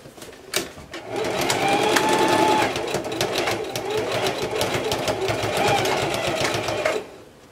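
A sewing machine stitches down fabric on a circle blouse, running in a steady, fast mechanical whir for about six seconds after a brief start, close and fairly loud.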